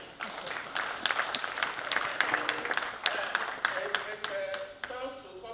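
An audience at a Nigerian Academy of Engineering investiture ceremony claps in uneven, scattered bursts. A person speaks over the applause throughout.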